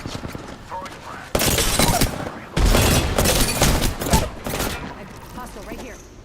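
A video game firefight with bursts of rapid gunfire and booming blasts comes in loud dense volleys separated by quieter gaps, with voices talking over the action.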